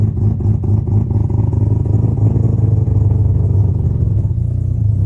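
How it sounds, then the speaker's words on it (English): A Mazda RX7 FD3S with a high-power 13B rotary engine and a GR700A six-speed transmission creeps backward in reverse on a light clutch with no throttle, a steady close low idle rumble with slight clatter. "So I'm going to put it in reverse, and I'm not even going to press on the gas, and you'll see I'm able to back up"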